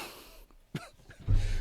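A person who is sick coughs once sharply, then a heavier rasping cough follows near the end, close to the microphone with quiet breathing between.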